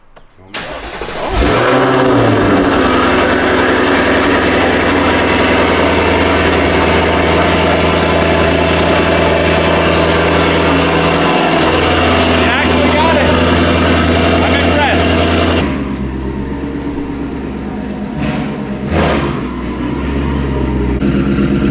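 A twin-turbo Ford Mustang engine fires up and runs loud and close, holding a steady deep rumble for about fifteen seconds before dropping to a quieter idle, with people talking over it.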